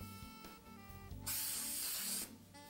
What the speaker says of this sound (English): I'm using spray adhesive to attach the roof.